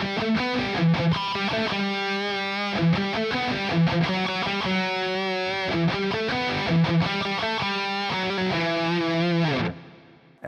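Distorted electric guitar alone playing one part of a melodic harmony riff from a 1988 album, a steady run of quick picked notes with crisp attacks, loud and close, cutting off cleanly at the end.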